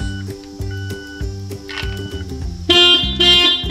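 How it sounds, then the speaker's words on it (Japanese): Anti-theft alarm on a Daihatsu Move Canbus LA800S, pearl white and pink metallic: a steady, rhythmic series of short electronic toots, close and loud, stepping up into a harsher, brighter horn blast near the end. "もうちょっとしたらクラクションが鳴ります"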